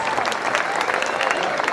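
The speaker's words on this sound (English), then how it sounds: "A round of applause." Audience applause at a live comedy show in Uganda, steady dense clapping filling the whole short stretch at close range with no break.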